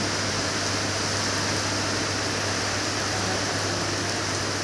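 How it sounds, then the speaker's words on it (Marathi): Unseasonal rain falls steadily during a thunderstorm, a dense, even hiss of close rainfall that continues for the whole stretch with no voices. "बळीराजासाठी अतिशय सुखद धक्का देणारा हा पाऊस सुरू झालेला आहे"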